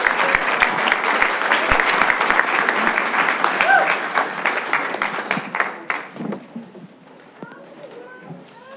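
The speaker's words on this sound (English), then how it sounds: "let's give them all one more big round of applause" Dense applause from a school board meeting audience fills the room for about six seconds, then thins to scattered claps and fades into near silence.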